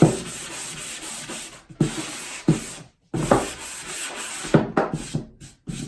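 Hand sanding along the edges of a wooden board for a string art project: close, brisk rubbing strokes repeating in quick bursts with short gaps between them.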